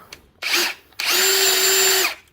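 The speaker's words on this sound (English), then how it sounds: "I'm making marks in the copper to go back and drill it with the correct drill" Power drill lightly marking holes in copper pipe, in two bursts: a short one, then a longer, steady high whine after a brief pause, loud and close, with no talking.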